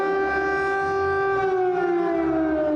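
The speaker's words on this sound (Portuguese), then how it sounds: "Em Kiev, as sirenes voltaram a soar de madrugada." An air raid siren wails over Kyiv in the early morning, a loud sustained tone that slowly falls in pitch, steady and alone.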